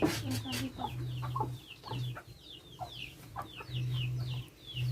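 Chickens cluck repeatedly at close range, with small birds chirping in the background and a low droning hum.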